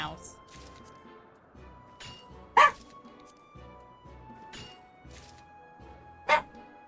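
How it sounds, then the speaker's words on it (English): A pet dog named Lily gives sharp, scattered barks, two of them loud and near, while a person talks quietly throughout. "who are you barking at?"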